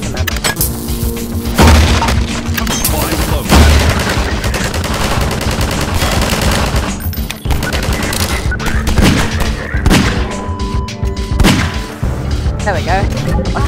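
Loud gunshots in Half-Life 2, repeated bursts and heavy booming hits packed densely across the stretch with game sounds layered beneath.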